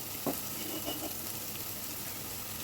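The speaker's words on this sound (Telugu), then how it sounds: "ఇప్పుడు ఇందులోకి 1 టేబుల్ స్పూన్ అల్లం వెల్లుల్లి పేస్ట్ వేసుకోవాలి" Ginger garlic paste frying in a pan of oil for an egg pulusu curry, a steady soft hiss with a few faint stirring clicks near the start, heard alone.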